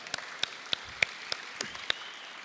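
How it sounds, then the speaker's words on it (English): Scattered applause from an audience at a waterfront presentation: a handful of sharp individual claps ring out at uneven intervals over a soft wash of clapping, fairly quiet overall. "Give him another great round of applause"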